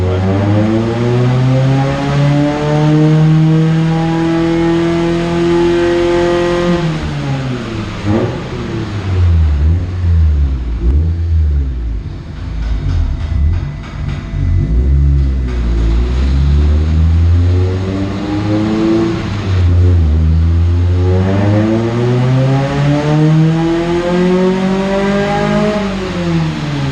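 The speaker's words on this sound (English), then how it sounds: "it allowed the car to build RPM" Car engine on a homemade chassis dyno revs loudly and steadily. The pitch climbs, drops away, then climbs again in long sweeps as the load comes on and off. No voices are heard.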